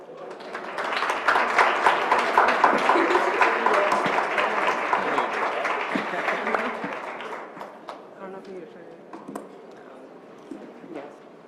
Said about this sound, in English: Let's give School 16 another round of applause